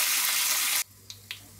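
Curry leaves hit hot oil for a tempering of garlic, cumin, mustard seeds and dried red chillies, giving a loud burst of sizzling that stops abruptly, followed by two faint clinks.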